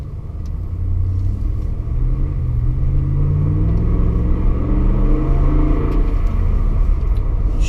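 A Ram 1500 pickup with the 5.7 Hemi V8 accelerates from inside the cab, a loud steady rumble whose engine note climbs through gears over several seconds, with road noise and no talking.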